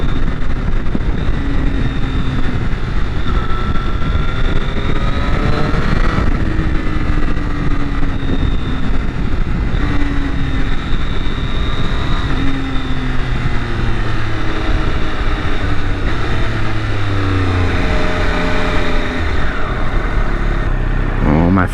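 Triumph Moto2 Daytona sport motorcycle under way, a loud continuous engine drone with rising and falling pitch through gear changes, heavy wind rush throughout, no talk.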